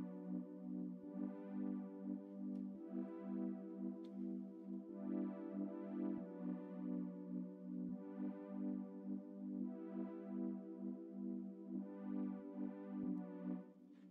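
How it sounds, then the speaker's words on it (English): A stock Omnisphere synth pad, the Warm Wigwam patch, plays alone as steady, warm, sustained chords that swell gently and hold throughout at moderate loudness. "Warm Wigwam pad. I think this is just a stock Omnisphere patch."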